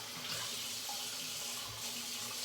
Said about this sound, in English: I'll rinse down here